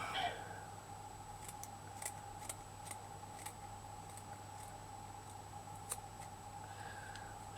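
Scissors snip away material in a quiet room, with a series of short, sharp, faint clicks spaced irregularly over a low steady hum.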